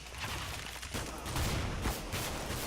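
Gunfire in Counter-Strike: Global Offensive during a competitive matchmaking game: a steady, dense clatter of shots with a few louder bursts, continuous throughout and fairly close, with no talk over it.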